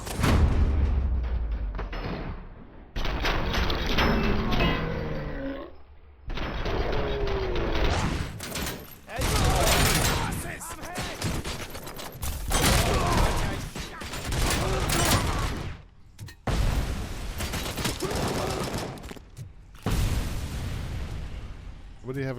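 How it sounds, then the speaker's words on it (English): Repeated explosive bursts of grenade launcher fire in the RoboCop video game, loud and close, arriving in clusters with brief gaps between volleys, under talk at times. "Sounded like somebody had a grenade launcher."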